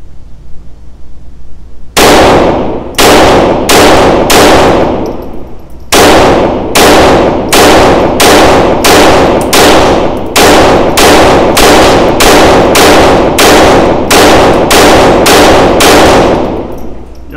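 A Sig P322 pistol loaded from a 20-round magazine fires about twenty loud, close, sharp shots, starting with a few spaced reports, then a brief pause, then a quicker, steady string of cracks.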